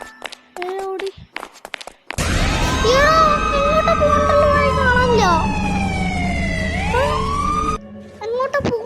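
A police siren wails in a Roblox game near an underwater prison, a loud continuous rising and falling tone of several seconds, with brief game noises and a voice before and after.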